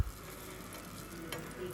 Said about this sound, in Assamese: অকণমান ৰঙচুৱা হোৱালৈকে এনেকৈ মই ভাজি ল'ম গোটেইখিনি বৰা।